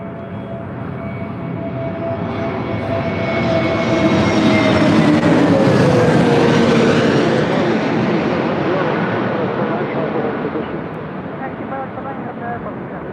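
An American Airlines airliner passes at LAX, its engine roar swelling to a loud peak mid-clip as the pitch sweeps downward, then fading, with radio chatter beneath.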